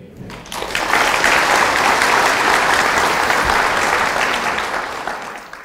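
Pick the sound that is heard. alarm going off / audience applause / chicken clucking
audience applause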